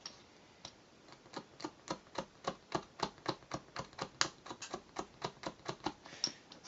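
A utility knife scrapes putty in a quick series of about twenty sharp, evenly spaced scratches, close and crisp with no talking.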